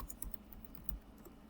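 Soft, close keystrokes on a computer keyboard as a command is typed into a network switch terminal, a short run of quick taps in a quiet room.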